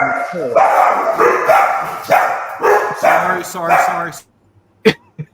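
Dog barking comes in a loud, rhythmic run of close woofs over about four seconds. It is followed by near silence and a couple of brief knocks.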